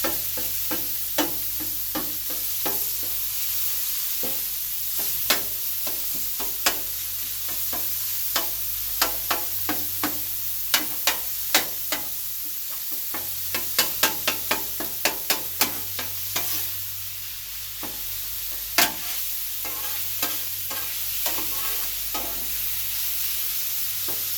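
Chopped sloppy joe filling cooks on a 22-inch Blackstone griddle with a constant frying sizzle, punctuated throughout by frequent quick spatula scrapes and taps that bunch together midway.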